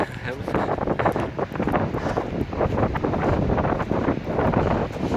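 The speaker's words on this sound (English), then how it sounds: "it's so windy today, probably it's going to make lots of noise in the microphone" Heavy wind buffets the microphone outdoors at the Meager Creek landslide site, a loud, constant rumbling roar that surges and dips throughout.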